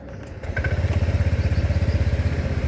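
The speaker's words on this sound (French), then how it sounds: "J'allume le scooter" A scooter engine starts up after a click and settles into a steady, close idle with a rapid, even putter that continues to the end.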